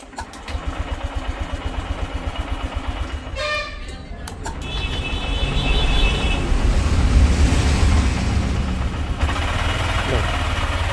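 A BS6 motorcycle engine cranks on its self-starter with a rapid rhythmic chatter, then catches and settles into a loud, rough idle close by, running steadily to the end.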